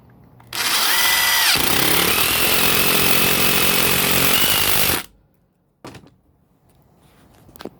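A Black and Decker Matrix impact driver drives a larger screw in one loud, continuous burst of about four and a half seconds, close up, followed by a couple of faint clicks and handling noises.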